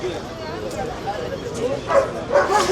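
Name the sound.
dog barking at an animal market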